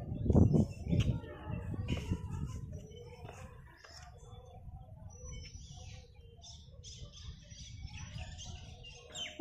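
Birds chirp and tweet around a riverside bathing ghat, with scattered, fairly faint calls over a low, continuous outdoor murmur.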